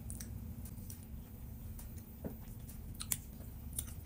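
Someone chews a fish-shaped waffle snack filled with ice cream and chocolate, with soft, close squishy bites and a few faint crunches over a low steady background hum.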